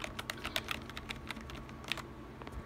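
Keys clack on a Corsair K55 RGB keyboard, a quick irregular run of close, quiet presses and taps with no talking.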